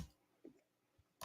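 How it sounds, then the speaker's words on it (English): Quick, light clicks of typing on a computer keyboard, faint and close, sounding over a call with poor audio quality. "I hear some typing."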